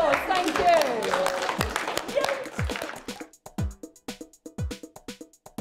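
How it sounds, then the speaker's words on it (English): Children applaud themselves after a dance lesson: talk fills the first few seconds, then ragged, distinct claps ring out in a loose, uneven burst that thins toward the end. "Give yourselves a round of applause, thank you."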